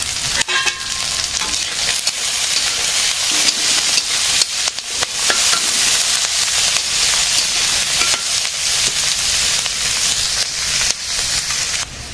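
Raw fish tossed into hot oil and stirred in a pan crackles and sizzles loudly and continuously, with scraping stirs and small spatter bursts throughout and no voices.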